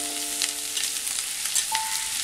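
Ginger and garlic sauté in hot oil for a Kerala-style green peppercorn chicken curry, giving a steady close sizzle with a few soft stirring scrapes and a faint tonal hum, no voices.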